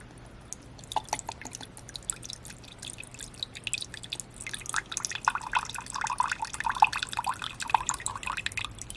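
Teriyaki sauce pours from a bottle into a bowl of deer jerky marinade, quiet glugs and drips at first, then a denser run of splashy trickling.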